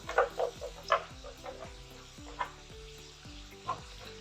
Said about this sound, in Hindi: अब जो मैंने प्याज पहले निकाला, प्याज और लहसुन, वो इसमें मैं डाल रही हूँ।